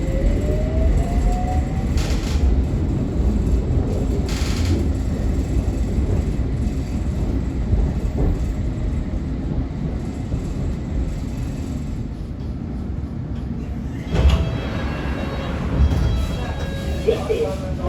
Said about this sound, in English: This is a semi-fast Metropolitan Line train to Chesham.